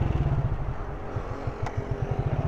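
A motorcycle in stopped city traffic in Bauru, Brazil, its engine throbbing in a close, low, steady rhythmic putter throughout.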